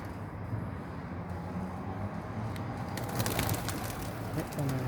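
Pigeons coo softly in low, repeated murmurs over a constant noisy background, with some sharp clattering toward the end.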